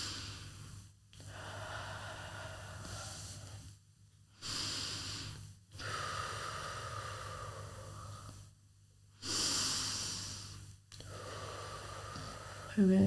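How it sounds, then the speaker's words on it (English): Three slow, deep breaths taken close by, each a long airy inhale and exhale separated by short silences, quiet and calm, with a soft hum underneath. "Now we're going to take 3 deep breaths"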